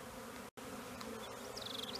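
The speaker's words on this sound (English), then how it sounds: "That is a lot of bees." A swarm of bees being captured in a box outdoors in the shade, a dense steady buzzing close by with one brief dropout.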